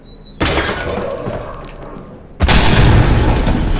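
A grenade goes off in the horror game Amnesia: The Bunker: a loud, broad burst hits sharply and sustains as a rumbling roar, then a second, heavier blast slams in and keeps roaring to the end.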